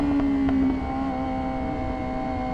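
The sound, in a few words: 2026 Yamaha R7 motorcycle accelerating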